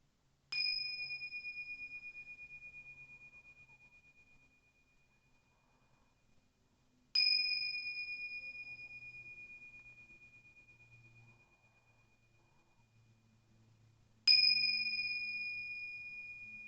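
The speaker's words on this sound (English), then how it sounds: "Sealing this meditation with the sound of the bells." Meditation bells ring three times at the close of a yoga session, each a clear, sustained bright chime struck roughly seven seconds apart and left to fade slowly into near silence between strikes.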